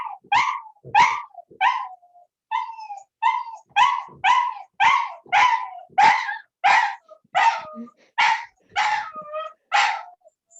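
A dog barks loudly and close, roughly fifteen sharp barks in a steady rhythm with short pauses between them, alone and without any talk.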